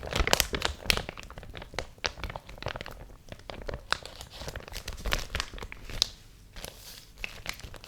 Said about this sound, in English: It's a bit of a thicker, more durable, sturdy packaging type plastic.